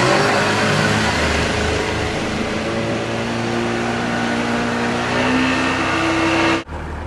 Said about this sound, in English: we fired up the old outboard and headed out on a quick run across the lake